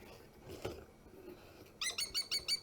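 Wild bird at a bird sanctuary giving a rapid run of repeated chirping calls, close and fairly clear, after a quieter stretch of soft rustling.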